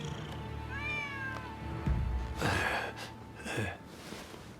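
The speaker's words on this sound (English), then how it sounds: "Who'd have thought a stray cat would wander in?" A stray cat meows in the video game Rise of the Ronin, giving a couple of drawn-out, rising mews followed by louder, rougher cries over a steady ambient hum.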